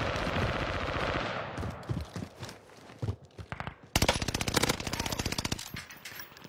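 Rapid automatic gunfire from a video game shooter, with bursts of fire, brief pauses and a loud sustained volley near the end, heard alone.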